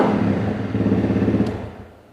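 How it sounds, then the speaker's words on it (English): Honda CRF250L motorcycle with a full FMF exhaust system, its engine loud and close, revving briefly with a throbbing pulse before dying away at the end. "Full FMF system. Sounds awesome."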